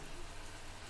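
Drizzling rain sound effect under a horror story narration, a soft continuous hiss of fine falling drops, faint and even, with no voice over it.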